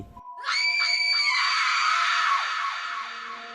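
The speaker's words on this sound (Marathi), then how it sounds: "ती वेड्यासारखी किंचाळली" A woman lets out a long, piercing scream that holds for a few seconds before wavering and trailing off.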